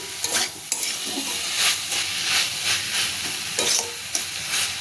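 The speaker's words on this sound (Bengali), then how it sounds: "ভালো করে এবারে কষে তারপর আলুগুলো দিব, দিয়ে জল দেবো, ভালো করে কষে নিই।" Curry of dry cabbage being stirred and sautéed in a pan, with steady sizzling and repeated scraping strokes of a spoon across the pan at close range, and no one speaking.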